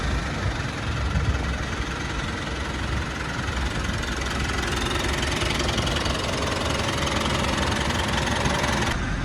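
A 2017 Mitsubishi Pajero engine idles at a service centre after an oil and gearbox oil change, a steady, loud, even rumble that runs alone without any pause.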